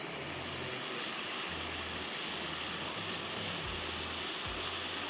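Red onions hitting hot oil for a Mahey Kaliya fish curry, with coconut already in the pan: a steady loud hiss and sizzle held close throughout, with a few low bumps.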